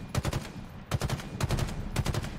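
Rapid bursts of automatic gunfire from Halo Infinite's heroic campaign ring out in four separate rattling volleys, loud and close, with no talking over them.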